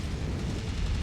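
Heavy, continuous low rumble of explosions and battle noise from combat in the MechWarrior 5: Mercenaries video game, loud and dense with no clear breaks, no talk.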